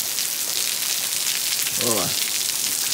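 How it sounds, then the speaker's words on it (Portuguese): Heavy rain pours steadily onto a surface beside a reservoir, a loud hissing wash that fills the whole clip while a voice briefly speaks over it. "Tá forte chuva, viu?"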